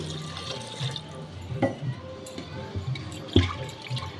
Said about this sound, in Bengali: আরও একটু পরিমাণ জল দিচ্ছি